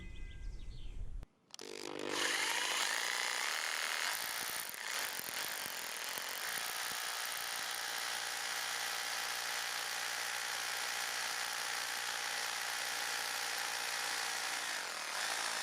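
Power drill boring pilot holes into a stainless steel chimney component, a steady high-pitched whine held continuously for many seconds after a brief start, loud and close with no talk.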